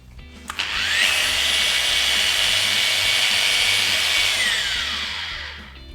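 A rotary polishing pad buffing the plastic of a Nintendo Wii console spins up into a loud, steady high whine, holds for several seconds, then winds down and fades.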